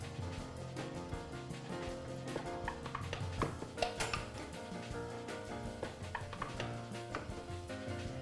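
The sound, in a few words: tightening metal lids on glass canning jars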